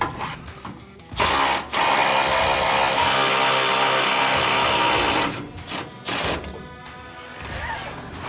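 Power tools whir and ratchet in bursts while the bump stop comes off a Ram 2500 Cummins diesel truck, several loud sustained runs separated by short pauses, with no talking.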